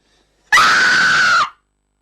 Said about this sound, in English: Go on, scream.